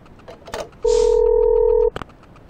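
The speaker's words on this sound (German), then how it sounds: "Ein Telefon, ob es funktioniert." Telephone in the video game Parasite Eve 2 emitting a single loud, steady electronic tone lasting about a second, bracketed by soft handling clicks.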